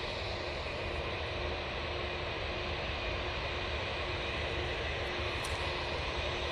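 Steady broadband roar of a British Airways airliner's engines at Manchester Airport, continuous and fairly distant, holding an even level throughout with no voices.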